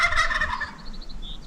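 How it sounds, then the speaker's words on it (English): A wild turkey gobbles in the Oregon forest: one rapid, rattling gobble that is loud at first, then fades as a few faint, high bird chirps follow. "deep in the forest, a turkey's gobble resonates."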